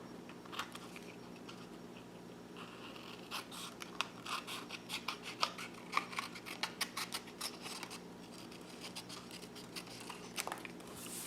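Scissors snip through 12 by 12 cardstock while making a junior legal pad portfolio, a run of quiet, crisp cutting clicks and scrapes in uneven bursts, close up with no talking.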